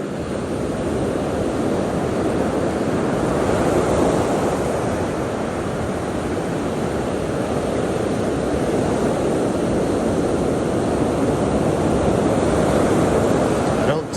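Ocean surf breaks on a beach, a continuous loud wash of broadband noise with no distinct pauses, heard up close for the whole stretch.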